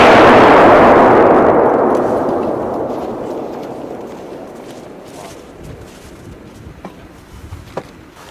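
A claymore mine goes off in winter combat with a loud, close boom that rolls into a long, slowly fading rumble, followed by a few faint distant pops.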